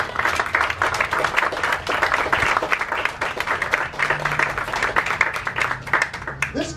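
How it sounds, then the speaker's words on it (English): Audience applause for the Grasso family at a groundbreaking ceremony, dense sustained clapping from a sizable crowd lasting throughout, fading slightly at the end. "a round of applause"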